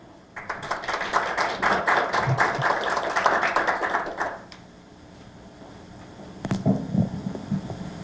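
A forum audience claps in welcome for a speaker at a seminar, a moderate burst of applause for about four seconds that fades into room hum before a few shuffling sounds and faint voices.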